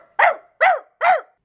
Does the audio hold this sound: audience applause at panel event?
no